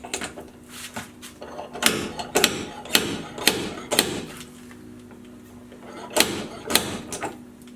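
A slide hammer pulls a dent on a car door jamb, giving a series of sharp metallic clanks and knocks at an uneven rhythm, close and fairly loud, with brief pauses between pulls.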